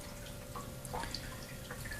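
Water drips steadily from a loosened union in aquarium plumbing below a tank, a soft continuous trickle with a few brighter drip plinks, close by and fairly quiet, with no talking.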